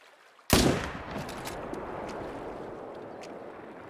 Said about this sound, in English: I do believe we just got a Texas heart shot on that moose